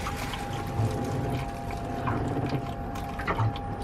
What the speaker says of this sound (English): I will let it drip off for a moment